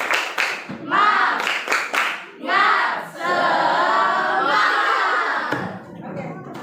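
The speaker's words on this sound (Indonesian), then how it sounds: "Sekarang tepuk semangat kembali." Schoolchildren in a classroom perform a rhythmic spirit clap, bursts of synchronized claps alternating with loud group chanting and shouting, close and energetic, with brief pauses between phrases.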